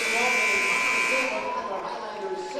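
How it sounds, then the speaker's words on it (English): A loud final buzzer blares steadily for about a second over a noisy crowd at a high school game, then the crowd roar carries on. "as the final buzzer officially sounds."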